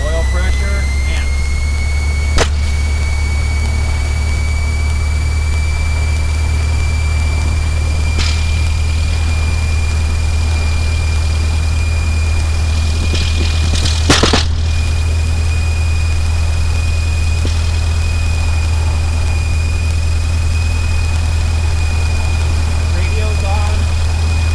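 A small single-engine training airplane's engine idles at about 1,000 RPM, giving a loud, steady low drone heard from inside the cockpit, with a few brief clicks and faint voices over it.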